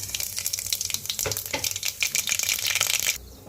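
Cumin, mustard seeds, green chilli and onion frying in hot oil, with a dense, steady crackling sizzle and stirring scrapes close by, cutting out abruptly near the end.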